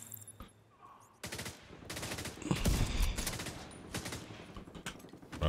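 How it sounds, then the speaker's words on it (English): Rifle fire in The Division 2 shooter game: a rapid string of loud cracks and thumping impacts with dense rattling bursts over a low rumble, close and continuous after a quiet start, no speech. "I do like taking enemies out from range with the sniper"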